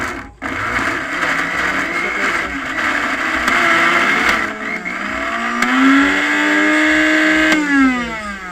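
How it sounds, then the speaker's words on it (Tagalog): A loud, steady blender whir runs throughout as it blends avocado ice cream, its motor pitch rising and shifting as the contents churn, with no talking. "So i-blender na nato no."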